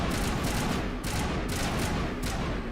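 Rapid bursts of gunfire from a weapon in Mass Effect Legendary Edition repeat in about five or six regular pulses, loud and close, with no voices present.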